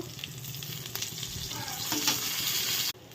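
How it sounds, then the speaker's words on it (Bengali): Eggplant pieces frying in oil in a pan, a steady close sizzle with faint crackling and occasional stirring, alone without voices, cutting off abruptly near the end. "এবার দেখো বেগুনটাও ভেজে নেব"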